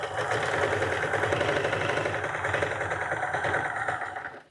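A sewing machine runs steadily and close, stitching a flip and stitch traditional quilt block in one continuous whirring, rattling burst that stops at the end.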